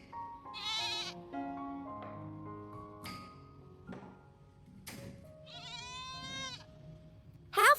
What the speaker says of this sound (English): he needed to go out to the garden to check on Baby the goat in this rainy weather